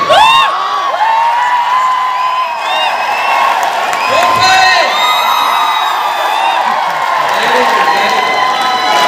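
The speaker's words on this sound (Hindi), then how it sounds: "जोरदार तरीके से सीटी बजाइए और ताली भी बजाइए।" An audience at a seminar event in Kolkata whistles sharply and cheers over steady clapping, a loud continuous crowd din with repeated rising whistles, and a brief spoken word near the end.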